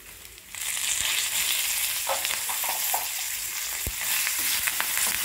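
Cumin, black pepper and curry leaves frying in hot oil for a tadka in a pongal recipe; a steady, close sizzle starts abruptly and holds, with occasional stirring clinks and pops, no talk.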